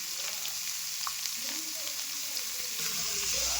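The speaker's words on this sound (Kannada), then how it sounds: "ಇದೊಂದಿಷ್ಟು ಕಟ್ ಮಾಡಿರೋಂಥ ಈರುಳ್ಳಿ ಹಾಕ್ಕೊಂಡಿದ್ದೀನಿ." Chopped onions frying in oil in a home kitchen pan give a steady, even sizzle that holds throughout and swells a little toward the end, with faint background noises and no talking.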